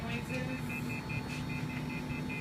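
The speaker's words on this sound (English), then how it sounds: "that noise is called a dial tone." A telephone handset gives off a faint, evenly pulsed electronic tone that repeats rapidly and steadily over a low background hum.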